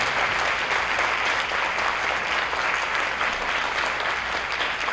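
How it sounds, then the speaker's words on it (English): An audience at a high school spring band concert claps continuously, with dense, steady applause filling the hall throughout. "How about a round of applause for our seniors in the audience and up on stage"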